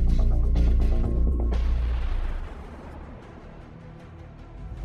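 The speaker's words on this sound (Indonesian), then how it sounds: "Ini akan meledak." A loud explosion in a drama scene, opening as a heavy low boom and settling into a dense rumbling roar that fades slightly over several seconds, with no voices.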